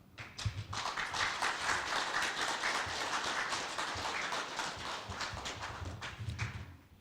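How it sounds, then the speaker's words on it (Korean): Faint, distant applause from a seated audience welcoming guests at the 2020 Korean sports community ceremony marking the Korean Sport & Olympic Committee's 100th anniversary, a steady patter of many hands rising and fading over seven seconds. "여러분 큰 박수로 환영해 주시기 바랍니다."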